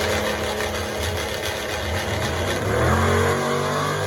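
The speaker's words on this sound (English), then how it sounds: "This Chevy Nova in the near side lane is an impressive car" A Chevy Nova drag car at a street car shootout at Bradenton Motorsports Park roars hard down the strip, engine revving loudly and climbing in pitch, then swelling louder near the end.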